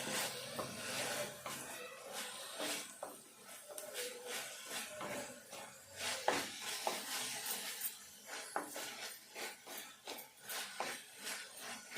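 Spinach fries in a pan and gets stirred, giving soft scraping and rubbing strokes over a light sizzle, with irregular spatula scrapes spread across the stretch at a fairly quiet level.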